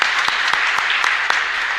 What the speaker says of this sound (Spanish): Un fuerte aplauso aquí a Brian también